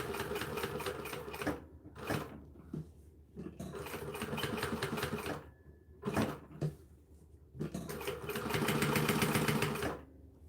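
A new sewing machine stitches along fabric edges in three long bursts separated by short pauses, with small handling clicks and knocks in the gaps; the machine runs steadily and close.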